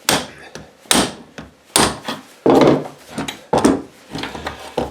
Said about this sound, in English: put our old bearing on there like that, and then put our socket on and give it a tap